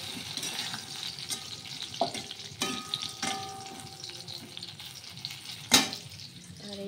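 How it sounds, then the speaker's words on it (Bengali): Bora fritters fry in a pan on a gas stove, giving a soft, steady sizzle with a few sharp clinks and scrapes of a utensil, one louder knock near the end, at close range with no talk. "বড়া ভাজছি"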